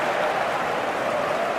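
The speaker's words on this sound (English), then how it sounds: "the crowd are reacting to that now" Stadium crowd noise in the eFootball video game, a steady broadband roar of cheering and applause that holds at an even level throughout, with no commentary voice over it.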